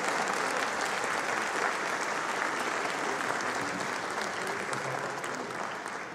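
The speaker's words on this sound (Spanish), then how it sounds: "Vamos a darle un fuerte aplauso." Audience in a concert hall at the Centro Cultural Roberto Cantoral clapping warmly, a dense, even burst of applause that holds for several seconds and then begins to thin out.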